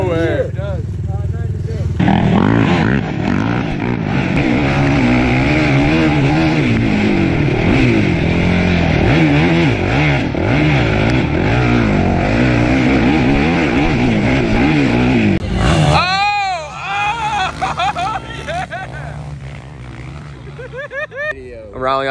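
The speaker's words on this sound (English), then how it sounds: "Rallying outside on the quad." A quad ATV engine roars outdoors at a motocross-style event, running steadily loud with rising and falling revs for most of the stretch, then fading into a lower idle near the end while people talk over it.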